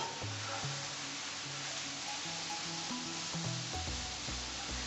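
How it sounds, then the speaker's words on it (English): Crisp parsnips frying in oil in a pan, browning off: a steady close sizzle with soft crackle throughout, alone with no talk. "I'll let that fry off and brown off to give a nice bit of colour"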